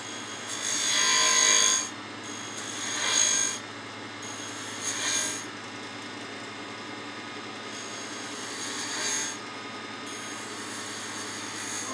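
A wooden bottle stopper spins on a lathe while a cutting tool shaves it, giving several hissing, scraping passes over a constant motor hum, with no talking.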